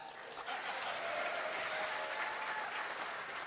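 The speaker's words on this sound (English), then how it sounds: "Can I get a round of applause for that?" Audience applause fills a large room at an esports awards ceremony, a steady wash of many hands clapping, fairly soft and distant, holding evenly throughout.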